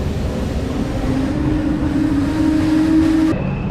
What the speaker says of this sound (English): I think the train is coming.